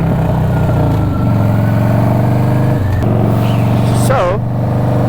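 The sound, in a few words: Harley-Davidson Dyna motorcycle engine while cruising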